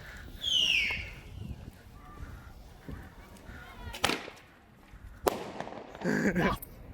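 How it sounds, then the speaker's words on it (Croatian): Two sharp firecracker bangs go off a second apart, loud and close, followed by crackling and some voices in the background. "Znači palimo još jednu petardu za kraj."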